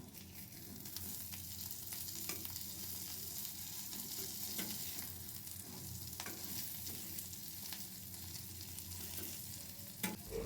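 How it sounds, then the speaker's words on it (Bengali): An egg frying in a pan, giving a continuous, fairly faint sizzle with occasional clicks and scrapes of a spatula, and no talking. "এখন আমি ডিমটা সুন্দর করে ভেজে নেব।"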